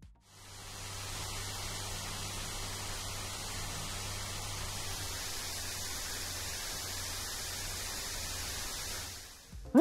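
A Lenovo G5000 2024 gaming laptop running at full performance gives a loud, steady, close fan rush under a low electrical hum, unbroken for about ten seconds.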